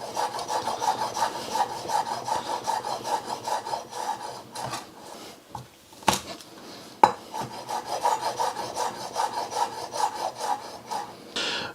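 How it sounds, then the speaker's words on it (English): Garlic cloves pounded and finely chopped with a knife, likely on a wooden board, for satay chicken: steady rapid rasping chops and scrapes with a few sharper knocks midway, close and moderately loud, with no talking. "I've got 2 cloves of garlic. I'm going to give it a quick pound, and then I'm just going to chop it finely."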